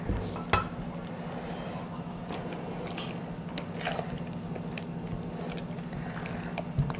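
Hot milk being stirred into a tea cake batter in a bowl, giving soft, steady scraping and clinking under a continuous low hum, with a few sharper clinks of the utensil against the bowl.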